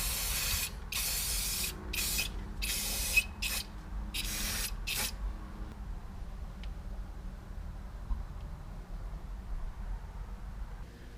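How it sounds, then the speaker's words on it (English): Several short bursts of aerosol spray paint hiss onto a car's exhaust converter, loud and close, separated by brief pauses, then stop, leaving a quiet room hum. "We'll just finish it by sealing it with some spray paint"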